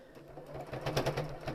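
A sewing machine stitches quilt fabric along a folded edge with a faint, quick rhythmic whirring patter, heard alone and close.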